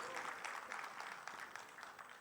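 Brief applause from an audience welcoming a panelist onto the stage at a literary festival, a short, fairly faint patter of clapping with a soft hum underneath.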